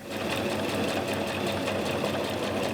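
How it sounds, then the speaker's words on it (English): A sewing machine runs continuously, its rapid, even whirring stitches closing a fabric sleeve into a tube, close and alone. "I'm gonna fold it in half and turn it into a tube by sewing over here"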